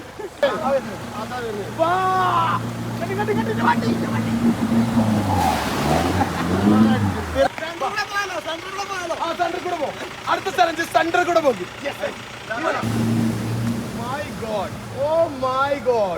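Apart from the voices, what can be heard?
Mahindra Bolero off-roader driving through water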